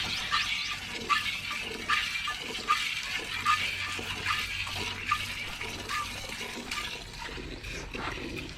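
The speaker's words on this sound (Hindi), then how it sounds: "तो इसलिए पानी से एक बार साफ़ करते हैं हम।" Water splashes and runs steadily as a cow is washed down before morning milking, a continuous close wash of splashing with no talk.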